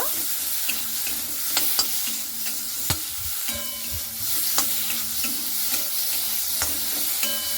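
A spoon scrapes and stirs vegetables with salt and turmeric in a pan during oil-free home cooking. A steady soft sizzle runs throughout, punctuated by sharp clicks of the spoon against the pan.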